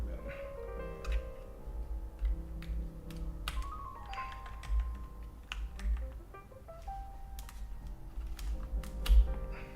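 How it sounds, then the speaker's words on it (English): Fingers typing on a computer keyboard at a desk, a close run of uneven clicks and taps in short bursts with brief pauses, over a faint low room hum and no speech. "My keyboard's not plugged in."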